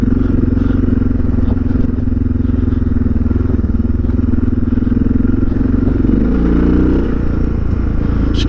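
A Suzuki DR650 motorcycle fitted with an FMF exhaust cruises in second gear at about 30 mph, its loud, close single-cylinder thump droning steadily, with a brief shift in engine tone near the end.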